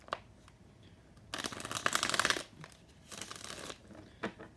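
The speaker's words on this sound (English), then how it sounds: "shuffle up these tarot cards" Tarot cards being shuffled by hand in two bursts of riffling and slapping, close and fairly loud, with quieter handling between them and no talk.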